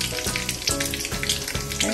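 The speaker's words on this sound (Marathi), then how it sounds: "आता आपण उसळीला थोडी वरून फोडणी देऊया." Mustard seeds with one red and one green chilli sizzle in hot oil for tempering over mung bean usal, a steady close frying hiss broken by sharp popping crackles.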